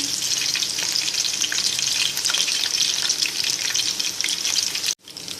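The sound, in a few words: beef muthiya kebabs frying on low flame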